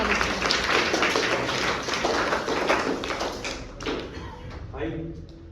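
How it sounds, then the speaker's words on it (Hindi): A group of children clap their hands in applause at a school cleanliness awareness event, producing a dense run of close, loud claps. Talk is heard alongside the clapping. "ताली बुला दो।"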